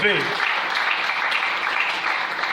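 A church congregation breaks into sustained applause during a sermon, a dense, steady wash of clapping that holds at an even level throughout, with a brief voice at the very start.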